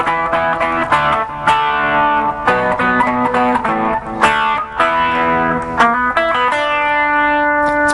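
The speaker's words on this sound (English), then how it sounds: "I'll throw some distortion on it here so you can see what I mean." Distorted electric guitar playing a heavy rock riff in a guitar lesson, with picked notes and ringing chords that are loud and sustained, heard alone without talk.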